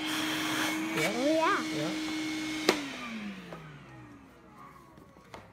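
A Hilti 75-1-A22 cordless vacuum cleaner runs steadily in eco mode with a constant hum, then its motor winds down and fades out. People talk briefly over the running machine.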